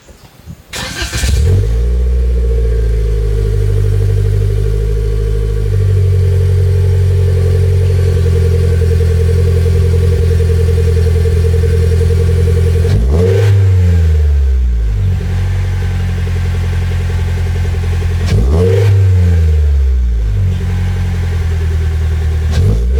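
A 2022 Toyota Corolla hatchback with a Remark catback exhaust idles loudly with a deep, throaty exhaust rumble, revving sharply twice in the later half before settling back, close and steady throughout.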